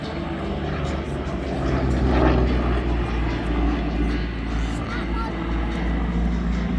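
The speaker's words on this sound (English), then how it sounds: "Time then for Phil Hardesty to give us a solo aeros demonstration in the Yak-52 that leads the formation" A Yak-52 propeller aircraft flies a solo aerobatic display at the East Kirby airshow, its engine a steady, fairly close drone swelling slightly, with an announcer talking over it.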